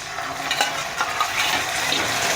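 Salted boiled tomato being mixed into frying onions. A dense, wet hiss of sizzling carries soft, muffled stirring scrapes over a couple of seconds, close and even, with no talking.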